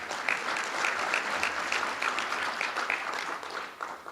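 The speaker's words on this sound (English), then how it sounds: "Give yourselves a round of applause." A roomful of business leaders at a county economic address claps steadily for several seconds, a dense wash of applause with a few sharper individual claps, fading slightly at the end.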